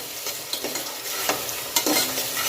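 Chopped ginger, garlic and green chillies sauté with onions in a pan, sizzling steadily close up while a utensil scrapes and stirs in several quick strokes.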